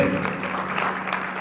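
Brief clapping from a church congregation during a sermon, moderately loud with a steady hum beneath and a couple of sharper claps.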